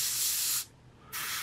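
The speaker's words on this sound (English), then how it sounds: "I could widen this up and go with a bigger spray pattern" Airbrush spraying Ammo Shaders wash at a reduced spray pattern, a steady close hiss that cuts out briefly mid-clip and then resumes.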